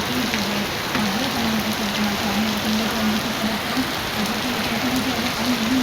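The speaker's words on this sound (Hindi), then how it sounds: "माशाल्लाह काफ़ी दिन बाद तेज़ बारिश हुई है" Heavy rain pours steadily in Lahore, a dense continuous hiss of drops hitting surfaces with no voices, loud and unbroken throughout.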